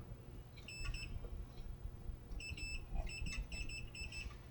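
Multimeter continuity beeper sounding on a GE Model T238B radio rotor during a repair, giving a few short high-pitched beeps in quick bursts that are faint and close, over a low background hum.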